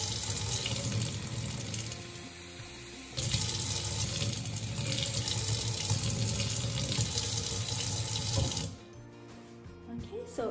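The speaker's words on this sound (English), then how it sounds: "I'm gonna put some water up to the 250 mark right there." Tap water runs steadily into a measuring bottle being filled to the 250 millilitre mark while making a hydrogen peroxide disinfectant, a continuous close splashing stream that grows louder partway through before stopping near the end.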